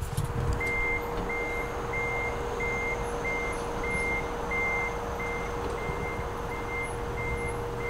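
A truck's reversing alarm beeps in a steady, regular series while the vehicle backs up an Airstream trailer. An engine idles underneath, and no one speaks.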